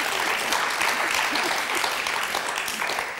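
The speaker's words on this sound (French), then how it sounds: "On va les applaudir très fort, toutes les deux." A studio audience on the French TV game show Motus applauds steadily and fairly loudly, a dense wash of clapping that holds for the whole stretch.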